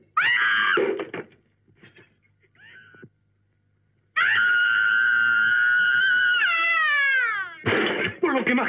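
A woman's loud, piercing scream in a Spanish-language comedy scene, a short sharp burst, then a brief lull with faint sounds, then a long sustained shriek that wavers and bends before ending in a harsh outburst.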